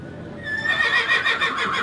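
A horse, the lead horse of the Rose Bowl Parade, gives one clear, close neigh that starts high and breaks into a shaking whinny lasting over a second.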